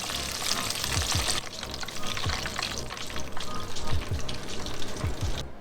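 Buttermilk fried chicken pieces crackle and sizzle steadily in hot oil as they are lifted out to drain, a continuous close bubbling hiss with small drips and clinks, no talking.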